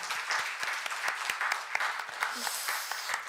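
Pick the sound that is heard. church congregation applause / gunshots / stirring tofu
church congregation applause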